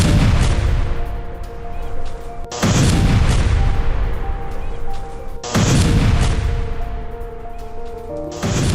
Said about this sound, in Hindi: अल अक्सा अस्पताल के नजदीक बमबारी।